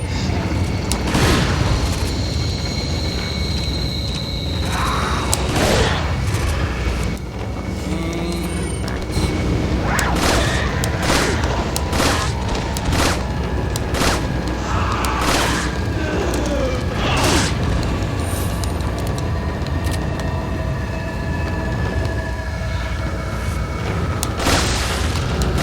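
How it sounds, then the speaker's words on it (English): Shotgun blasts in the video game Resident Evil 4, a run of heavy booming shots at irregular intervals over a constant dense game-ambience rumble. "Shotgun time."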